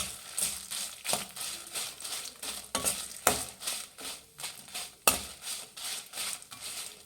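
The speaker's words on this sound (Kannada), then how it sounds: "ಈಗ ಇದಕ್ಕೆ ಫ್ರೆಂಡ್ಸ್ ಮೆಣಸಿನ್ಕಾಯಿ, ಬ್ಯಾಡಗೆ ಮೆಣಸಿನ್ಕಾಯಿ ಇದನ್ನು ಹಾಕಿ ಚೆನ್ನಾಗಿ ಫ್ರೈ ಮಾಡಬೇಕು" Chillies, including Byadagi chillies, being fried and stirred in a pan, with soft sizzling and repeated scraping strikes of a spoon against metal, close and without talk.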